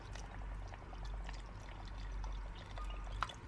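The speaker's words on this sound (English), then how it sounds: "Now I will add the water again, full." Water pours into a blender for a strawberry milkshake, a close, steady splashing stream with a low hum underneath.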